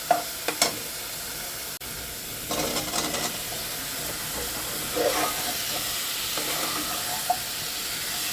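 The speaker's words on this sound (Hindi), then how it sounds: "अब हम इसमें आलू डाल देंगे।" Potato cubes go into a hot pan with spices on high heat for a potato and soybean curry. A few sharp clinks come first, then a louder, close sizzle rises and carries on steadily with occasional stirring scrapes.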